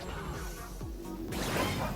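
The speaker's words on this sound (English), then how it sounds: "Because you can just use your dog to go through the glass." Glass smashes as a dog bursts through a pane in the Astro Bot platformer, a sharp crash with scattering debris over busy game music, fairly loud and close.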